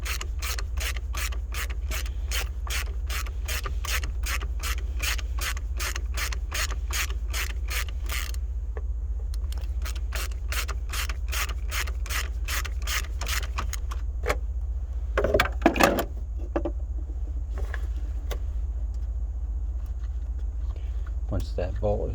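A ratchet clicks in a quick, even run, then slows to scattered turns and a few clanks while the battery mount bolts come out of a 2015 Dodge Dart, close and fairly quiet.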